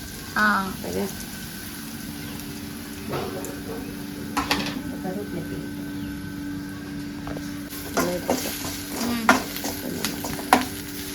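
Ground asafoetida drops into hot oil in a pan and sizzles steadily, with a few louder scraping and clattering bursts of stirring and a voice briefly heard.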